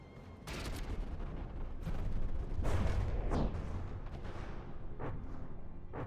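Plasma cannon fire in the naval combat game From The Depths, heard as a rapid string of loud, booming shots and crackling impacts. The barrage continues steadily for several seconds and no one talks.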